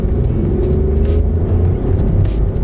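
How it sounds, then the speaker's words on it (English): A VW T-Cross 1.0-liter TSI engine hums loudly and rises as it pulls away from a stop, a close, continuous drone with a slight climb in pitch. "this little 1 liter engine punches"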